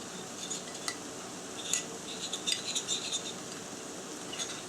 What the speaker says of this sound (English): I will now stir that together